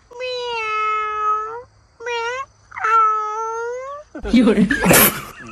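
A person imitates a cat with three drawn-out meows, the first long, then a short one and another long wail, followed by a burst of noisy rustling.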